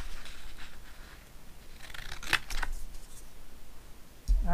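Scissors cut a paper strip for a DIY graduation party hat, a few close snipping crunches spread unevenly across the moment, with quiet handling rustle between cuts and no talk.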